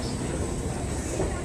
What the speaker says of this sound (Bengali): ये ट्रेन हुगली नदी के नीचे मेट्रो रेल सड़क में प्रवेश करेगी